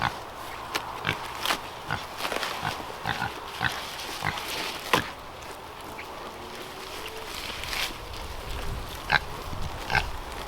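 Pigs on a farm grunting and snorting in a busy cluster of short, irregular calls over steady outdoor background noise, fairly close, with no talking.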